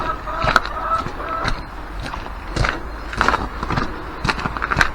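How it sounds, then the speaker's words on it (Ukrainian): Domestic ducks quacking and honking inside their shed on a Ukrainian homestead, a busy flock calling repeatedly and close by in a steady, overlapping chatter. "піду до наших качок відкрию"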